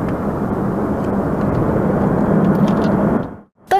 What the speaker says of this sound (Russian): Истребитель приближается и ловит его конец с помощью электромагнитного замка.